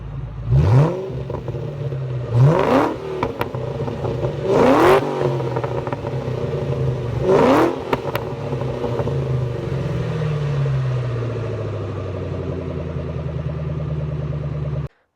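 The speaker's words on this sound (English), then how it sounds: "now the car looks better and sounds better with that Borla exhaust" A 2004 Mustang Cobra with a Borla Stinger catback exhaust revs hard four times in a row, each sharp rise in pitch falling back, then settles into a steady deep idle with a throaty exhaust rumble.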